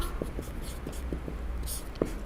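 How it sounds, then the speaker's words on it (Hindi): A pen writing out the answer to a matrix problem by hand, soft scratchy strokes coming in short bursts with a few sharper taps, close and quiet, no talking. "तो यहाँ पर हम लिख लेंगे लास्ट में"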